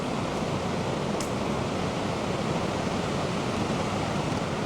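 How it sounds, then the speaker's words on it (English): The waterfall at Great Falls produces a constant broadband roar of rushing water, steady and unbroken, filling the air with no voices heard. "So you hear the waterfall."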